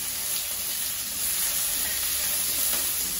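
Onions sauté in a pan for a sambar and poriyal meal, a constant close hiss of sizzling oil with faint stirring and no voices.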